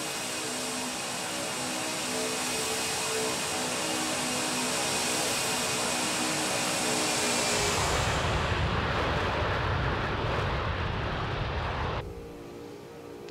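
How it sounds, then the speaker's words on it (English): Boeing 747-200 jet engine roar from a flight simulator's external flyby view, a loud steady broadband rush with a tonal whine that swells, then drops away sharply near the end as the view cuts back. "Cover your ears for an external flyby."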